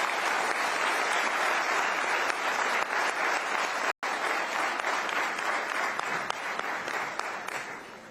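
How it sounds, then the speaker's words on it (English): A large summit audience claps continuously in a thick, even roar of applause, with a brief dropout partway through. "Audiences, I think she deserves a big round of applause."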